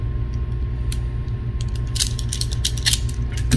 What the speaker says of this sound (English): you can undo the flaring tool again, disassemble it, slide the pipe out